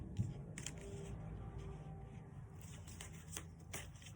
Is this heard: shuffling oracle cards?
yes